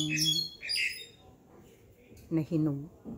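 A couple of harsh, raspy bird squawks nearby, from birds drawn to fruit on a mango tree, followed after a pause by a person talking.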